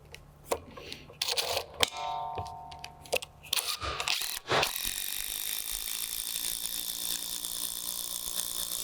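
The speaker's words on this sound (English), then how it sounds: "You can go ahead and use your fasteners to attach the mount down." Screws are driven through a post mount into a wooden deck, with a run of ratcheting, clicking tool sounds and knocks followed by a steady, close mechanical whir as the fastener goes in.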